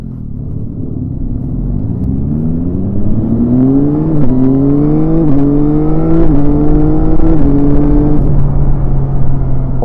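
A 2025 Yamaha Tracer 9 GT motorcycle accelerating through city streets, its engine note climbing loud and close through several gear changes, each rise in pitch cut short by a brief drop before settling into a steady cruise.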